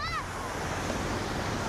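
Choppy surf rolls in on Boracay beach at Station 3, a continuous close wash of breaking waves with wind buffeting the microphone, no speech over it.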